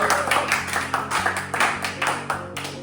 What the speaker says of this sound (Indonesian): Boleh tepuk tangan tuh Wadi